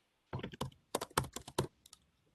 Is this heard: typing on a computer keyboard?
yes